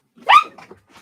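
A single sharp bark from a dog nearby, followed by faint shuffling and quiet noise.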